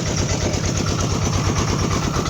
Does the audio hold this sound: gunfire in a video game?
no